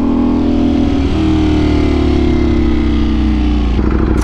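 A red 2023 Ducati Panigale V4R engine revs loud and close, a steady high-pitched roar holding through the whole stretch with a slight dip and rise in pitch near the end.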